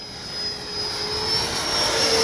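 A Freewing 90mm F-4 Phantom II RC jet flies overhead with a loud, steady turbine whine and a constant high-pitched tone over a broad roar that swells slightly.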